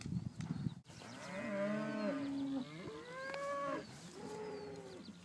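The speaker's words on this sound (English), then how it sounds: "Too small of an opening for too many cows." Cows in a crowded herd moo outdoors, several long, drawn-out bellowing calls following one another, moderately near, with a few shuffling noises at the start.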